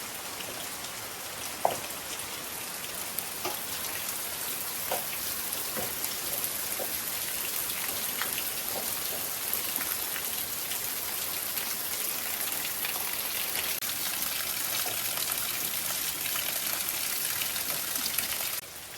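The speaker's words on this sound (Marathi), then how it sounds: "पाऊस लागला म्हणून ना" Steady rain of the season's first downpour pours down throughout in a village, a dense hiss with occasional louder drips and patters close by, no voices.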